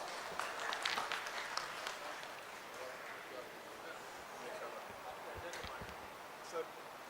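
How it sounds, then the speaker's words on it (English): An audience at a healthcare expo and conference applauds a chief guest called to the stage, giving diffuse, moderately loud clapping that rises at the start and then settles into a softer, steady patter. "You all are requested to kindly give him a huge round of applause."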